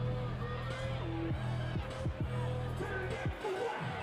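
Student section crowd at a Skyline High School football game against Olympus cheering in a steady, distant roar, with a commentator talking over it throughout.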